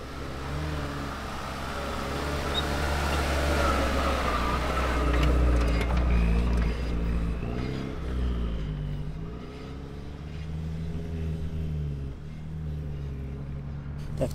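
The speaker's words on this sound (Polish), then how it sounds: "Jedzie samuraj. Zjeżdżamy teraz z bardziej stromej górki, a potem z niej wyjedziemy." A Suzuki Samurai off-roader drives down a steep sandy hill, its mid-pitched engine swelling and revving loudly near the middle before easing off, with a faint voice in the background.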